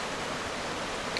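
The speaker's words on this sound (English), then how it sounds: "Norrell Creek and this scenic waterfall." Scenic waterfall on Norrell Creek near Lake Norrell in Saline County, Arkansas, giving a steady, dense broadband rush of falling water throughout, close and continuous with no voices.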